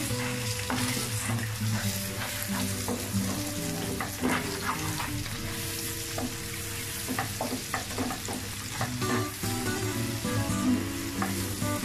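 Eggs seasoned with black pepper are stirred in a hot pan while making egg noodles, giving a continuous sizzle and frying crackle broken by repeated spatula scrapes and taps.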